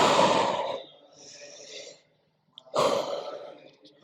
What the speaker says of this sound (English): Just breathe in with your nose and breathe out with your mouth.